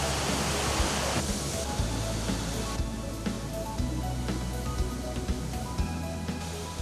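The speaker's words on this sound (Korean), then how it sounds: "정말 보시는 것처럼 폭포의 그 모습이 웅장하고 기세차서 우리 금강산 4대 명폭포 중에서도 제일 가는 폭포로 되고 있습니다" Mount Kumgang's large waterfall, about 120 m long and in full flow, roars as a broad, continuous rushing hiss. It stays loud and steady throughout, with low tonal music underneath.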